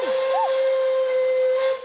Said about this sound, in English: Let's take off, train. Toot toot.